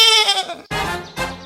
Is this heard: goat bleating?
yes